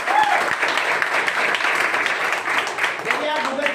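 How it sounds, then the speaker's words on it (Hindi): Loud, steady audience applause fills a Nex Money office opening event in Shajapur, with an announcer's voice speaking over the clapping throughout. "जिनके लिए जोरदार ताली बजा दिया जाए।"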